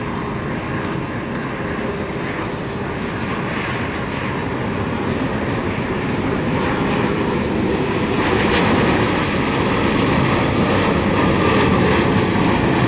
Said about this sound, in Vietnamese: chiếc máy bay đang bước vào hạ cánh